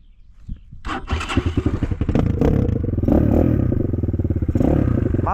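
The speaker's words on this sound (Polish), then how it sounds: "mam nieszczelny wydech" An Apollo RFZ 250 motorcycle with a leaky exhaust fires up from near silence into a fast, choppy, clattering putter, then settles into a loud, steady rattling run close by.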